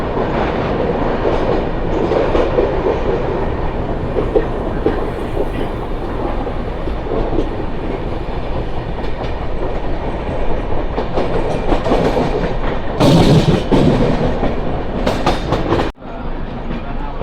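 Mandovi Express, sharing its rake with the Konkan Kanya superfast, rolling between Matunga and Dadar on the CSMT–Madgaon route: a loud, steady rumble of carriages on rails with faint clatter, a brief hiss-like burst near the end.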